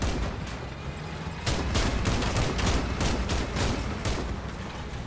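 In the Crossout vehicle combat game, an autocannon and a small howitzer fire in a steady run of sharp, rapid bursts over dense rumbling battle noise, loud and continuous.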